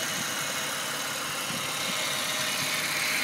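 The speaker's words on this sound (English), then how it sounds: "just so I can show you the motor running in perfect condition" A Ford BA MKii Supercab engine idles steadily nearby, a continuous low rumble with a faint mechanical hum and no voices over it.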